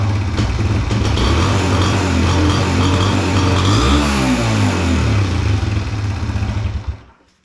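A 2021 Suzuki DRZ 125 dirt bike, fitted with an aftermarket carburetor, revs loudly and close by, holding a buzzing high idle with a rising and falling rev in the middle before the engine cuts off at the end.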